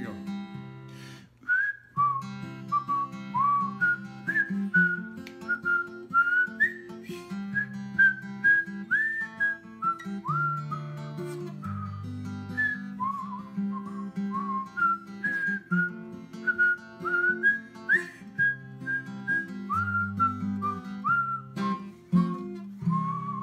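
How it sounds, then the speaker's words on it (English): A person whistles a cowboy song melody, steady and close, a clear tonal tune with short breaks between phrases, alone with no talking. "you can whistle going out, breathing out, or breathing in"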